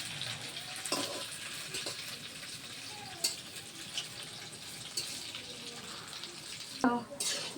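Banana flower fritters (mochar bora) fry in hot oil with a steady, close crackling sizzle, punctuated by a few sharp clinks and stirring scrapes, with no voices.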